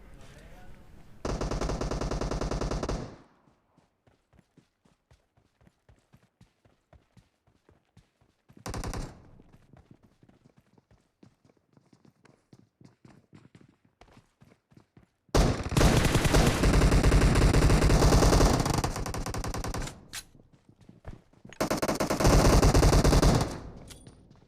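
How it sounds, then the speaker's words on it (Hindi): Bursts of automatic gunfire from the PUBG Mobile battle royale game, loud sustained volleys at the start, a brief burst midway, then two long heavy strings of shots near the end, with quieter scattered ticks between. "इतनी गंदी वाली फायरिंग सुनने के बाद"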